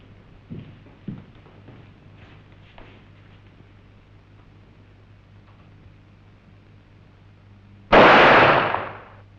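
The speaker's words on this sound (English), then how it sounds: "The shot you just fired" A single loud pistol shot bursts out near the end of an otherwise quiet stretch, preceded by a few faint knocks and low background hum, ringing off briefly after the sharp crack.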